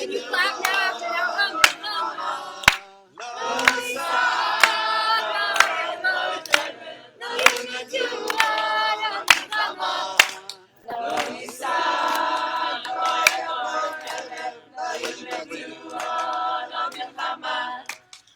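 A class sings as a choir and claps along to the song. Sharp hand claps fall at regular intervals under loud group singing, with brief pauses between the sung phrases.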